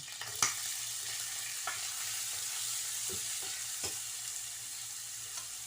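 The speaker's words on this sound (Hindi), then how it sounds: "अब मैं इसमें ये ग्रीन प्याज डाल दूँगी।" Green onions sautéing in oil and butter with cumin, a steady close sizzle broken by several short scrapes and taps of a stirring spoon against the pan.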